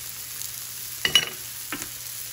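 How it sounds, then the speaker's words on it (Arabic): Ground spices (turmeric, paprika, garlic powder and curry) toasting in a pan for a samosa filling, a low steady sizzle with two short scraping stirs of a spoon, fairly close and alone. "بنقلب مع بعض لحتى تتحمص كل هالبهارات"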